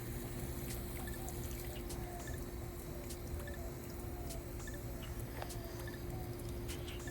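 Potted cucumber and melon seedlings get a light watering, with faint steady trickling and dripping over a constant low hum, close and quiet.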